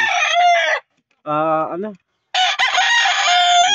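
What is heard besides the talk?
rooster crowing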